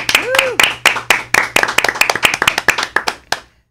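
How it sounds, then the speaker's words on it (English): Audience at a live radio show claps for a musician, a burst of sharp, separate handclaps that thins toward the end, with a brief tonal whistle-like sound near the start. "Let's give Tyler a round of applause."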